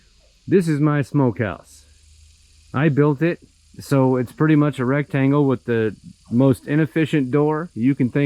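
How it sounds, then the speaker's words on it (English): Cicadas buzz outdoors in a steady, high-pitched drone on a ranch beside a homemade smokehouse, running continuously under someone talking close to the microphone. "Please pardon the noise of the cicadas."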